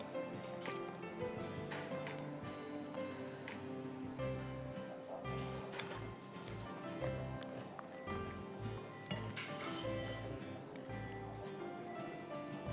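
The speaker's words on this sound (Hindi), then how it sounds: "अब हम इसके ऊपर जो हमारा ये मरैंग के लिए बीट हो गई हैं एग वाइट्स, वो लगाएंगे इसके ऊपर" Beaten egg-white meringue is spread over a chicken dish, producing soft, wet squishing and smearing sounds that repeat irregularly over a busy background.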